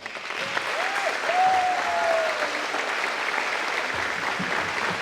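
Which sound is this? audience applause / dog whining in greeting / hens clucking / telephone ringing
audience applause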